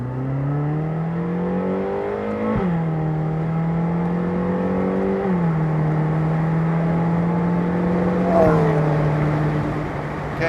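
A 2010 Ferrari California convertible in sport mode accelerates hard on paddle shifts, its engine note climbing steadily and then dropping sharply at each of several shifts, loud and close inside the car.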